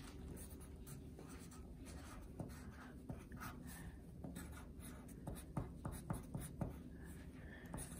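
A pencil writes in a card. Close, quiet scratching strokes run steadily, then grow into sharper, more distinct marks toward the end.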